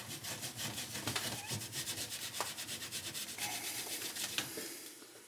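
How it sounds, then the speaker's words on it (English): A blade scrapes grease off a household exhaust fan in quick, rhythmic rasping strokes, loud and close, with no talking. "you can use the blade to scrape it off and it"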